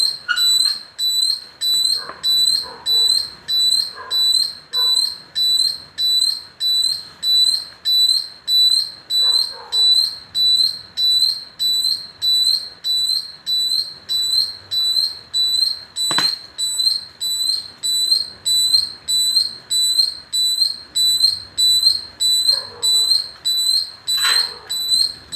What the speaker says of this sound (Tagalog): Yan ang tunog niya ngayon nga may takip na.